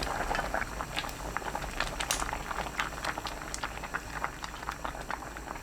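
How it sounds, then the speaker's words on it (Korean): Seaweed soup with tofu and doenjang bubbling over high heat in a pot, a dense, steady crackle of small bubbles popping close by with no voices. "골고루 섞은 뒤 뚜껑 닫고 끓입니다"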